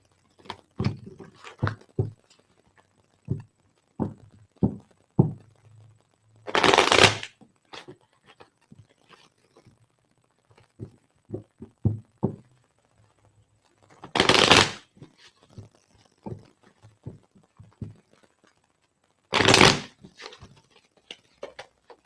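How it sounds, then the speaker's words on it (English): Cards being riffled and shuffled: a run of quick, crisp flicks, broken by three loud bursts of full bridge-riffle whirring, close by with no talking. "Sherry, while I'm shuffling the cards, I just heard that I was doing it wrong."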